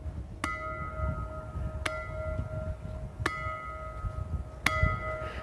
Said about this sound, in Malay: Mereka akan katuk loceng ni.